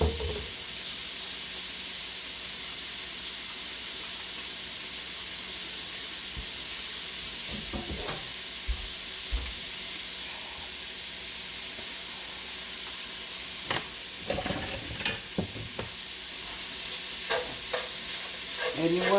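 Breakfast sausage fries in a pan for sausage gravy, giving a steady soft sizzle with intermittent scraping and mashing knocks as the meat is pressed and broken up.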